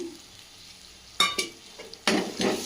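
Tomato and masala frying in a pan for paneer bhurji, with a quiet start giving way to loud bursts of sizzling as the mixture is stirred, a couple of scraping stirs and a strong sputter near the end.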